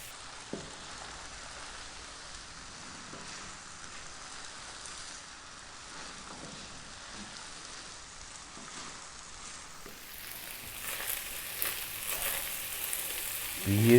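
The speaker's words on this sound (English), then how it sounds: "we're going to cook this now for about 5 minutes, stirring pretty much all the time on a decent amount of heat" Chicken and red bean fried rice frying over above-medium heat while being stirred, a steady rain-like sizzle that swells louder toward the end.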